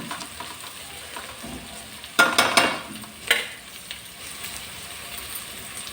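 Tomato rice ingredients cook in oil with a low, steady sizzle, punctuated by a few sharp bursts of stirring and scraping near the middle.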